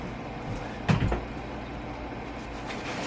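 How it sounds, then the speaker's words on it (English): A door is pushed shut nearby in a quiet indoor room, one muffled thud with a short rattle, then steady low background hum. "Let me close this door."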